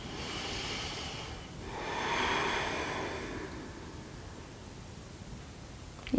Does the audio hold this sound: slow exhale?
yes